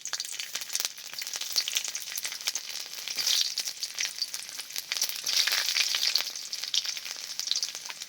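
Whole cumin seeds and whole garlic cloves sizzle steadily in hot oil in a wok, a dense continuous frying crackle close up with no voices.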